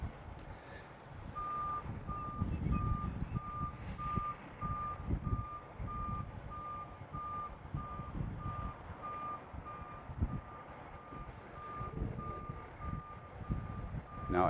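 A truck backs its trailer into a loading box with a steady repeating reversing beep sounding throughout, over a low rumbling diesel engine close by.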